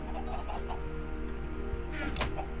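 Chicken clucking in Minecraft, a few soft repeated clucks with a brief squawk near the end, steady over a constant game hum.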